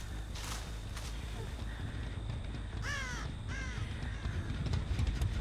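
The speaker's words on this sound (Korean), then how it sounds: "이것이 까마귀다." Crows cawing in the horror game Dead by Daylight, two clear harsh caw bursts near the middle over a steady low game ambience and faint background noise.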